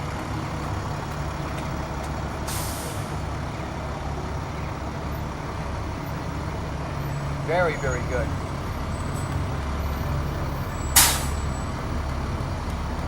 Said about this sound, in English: Trucks all spiffed up for the 4th of July parade.